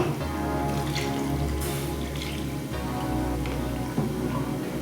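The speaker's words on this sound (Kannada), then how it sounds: "ಇವಾಗ ನೀರು ಹಾಕೋಬೇಕು" Water pours steadily into a pot of spiced field-bean curry, a continuous close splashing rush that runs for several seconds with a brief clunk near the end.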